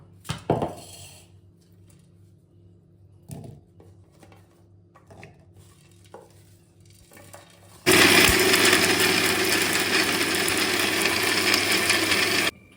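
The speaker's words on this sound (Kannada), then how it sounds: "ಪುದೀನ ಕೊತ್ತಂಬರಿ ಶುಂಠಿ ಬೆಳ್ಳುಳ್ಳಿ ಪಲಾವ್ ಎಲೆ ಇಷ್ಟನ್ನು ಇವಾಗ ರುಬ್ಬಕ್ಕೆ ಹಾಕೊಳ್ಳೋಣ" A kitchen mixer grinder blends mint, coriander, ginger, garlic and bay leaf for biryani masala, starting loud and steady about eight seconds in after quieter clicks and handling sounds of the jar, continuing alone to the end.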